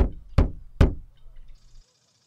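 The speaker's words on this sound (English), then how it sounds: "the quiet fall afternoon was disturbed by three knocks" Three sharp knocks, evenly spaced about 0.4 seconds apart, heard close and alone in a quiet fall afternoon setting, followed by a soft low rumble and a faint high hiss.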